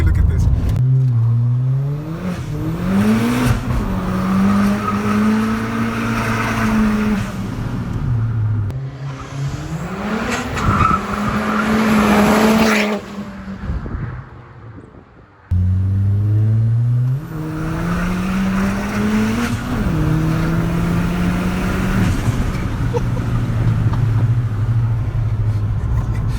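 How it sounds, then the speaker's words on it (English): A Ford Fiesta ST accelerates hard through the gears, its engine note climbing repeatedly with brief dips at shifts, loud and close from inside the car, with a voice talking at times. "I'm gonna show you guys how fast this car accelerates"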